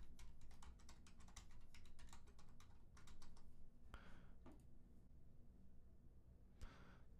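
Computer keyboard typing while registration details are entered, in quick bursts of close, crisp keystrokes with short pauses between, under a steady low background hum.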